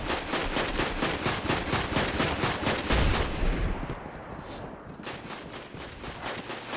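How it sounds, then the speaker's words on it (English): Rapid automatic gunfire from a Destiny 2 firefight, loud and close, with dense evenly spaced bursts for about three seconds before thinning into scattered distant shots and rumbling battle noise. "Who's firing and why?"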